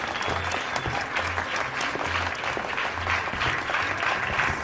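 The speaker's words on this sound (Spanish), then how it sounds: "Un aplauso para ellos." An audience applauding a band on a Spanish-language television show, continuous loud clapping with a crowd feel that holds evenly for several seconds.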